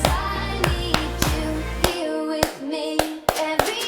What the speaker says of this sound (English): I'm going to clap that triplet.